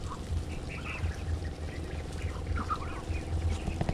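Ducks quack and honk repeatedly in a noisy farmyard, where a steady low rumble runs underneath their calls and no one speaks.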